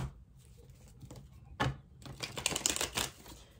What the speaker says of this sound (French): Je vais juste prendre trois cartes. Je vais couper trois fois.